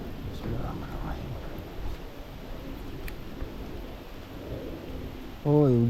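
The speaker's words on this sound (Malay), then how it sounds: "Oi, hujan woi." Heavy rain pours steadily with thunder rumbling at a fishing spot beside a blackwater ditch, a dense continuous hiss under low rumbles, ending with a sudden louder burst of sound.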